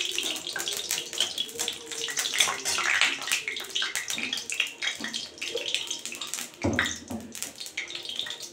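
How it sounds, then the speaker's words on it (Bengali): Three dried red chillies dropped into hot mustard oil in a heated kadai for tempering, a steady close hiss and crackle throughout with a sharper burst partway, a voice talking over it. "আমি 3টে শুকনো লঙ্কা ফোড়ন দিয়ে দিলাম"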